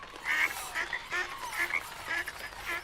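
Toad croaking in a children's bedtime story, a rhythmic series of short raspy croaks repeating about twice a second, fairly loud and alone.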